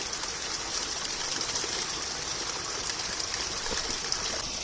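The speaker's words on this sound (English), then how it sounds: "You can also see other places in the wall where the water is coming through." Water seeping through a wall in a flooded yard and running down into a channel gives a steady, close trickling and rushing flow, continuous and even throughout with no talk.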